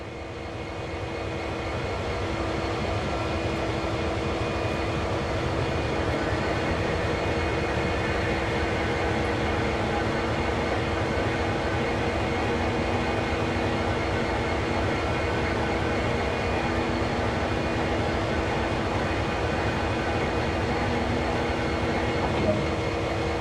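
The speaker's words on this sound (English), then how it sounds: "turn the table and locomotive to the indicated track." A locomotive turntable in a train simulator grinds around with a steady mechanical rumble and drone, constant and fairly loud for over twenty seconds after a brief rise at the start, with no one speaking.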